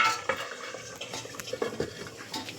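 A lid set back on a pot of boal fish curry cooked with mustard paste and eggplant, heard as faint, scattered metallic clinks and scrapes against a quiet kitchen background.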